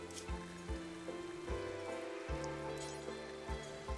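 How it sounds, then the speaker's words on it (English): Psychic rain falling in the video game RimWorld, a steady soft patter running throughout beneath a layer of low, sustained tones and periodic deep thumps, with no one talking. "The psychic rain is still going on."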